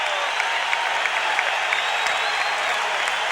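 A basketball arena crowd roars and applauds during an Orlando Magic vs Detroit Pistons NBA game, a loud, sustained wall of cheering and clapping that cuts off abruptly at the end.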